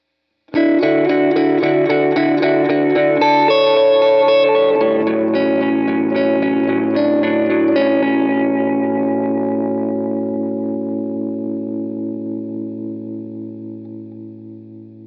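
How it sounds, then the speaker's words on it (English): Electric guitar played through a delay pedal feeding a Fairfield Circuitry Accountant compressor, a steady run of picked notes with echoing repeats and a smooth, even sustain that rings out and fades slowly, loud and alone with no talking. "let's hear the delay going into the compressor"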